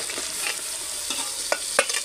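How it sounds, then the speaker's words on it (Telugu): Goat head meat stirred in hot oil with an onion tempering. A steady close sizzle runs under several brisk spatula scrapes and taps. "ఇలా మొత్తం కలిసేలాగా ఒకసారి కలుపుకొని ఒక 5 నిమిషాలు ఇలా నూనెలో వేగాలండి"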